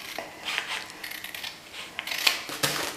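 Scissors cutting a paper pocket guide for a corduroy tunic dress, a few short crisp snips and rustles, close and fairly quiet.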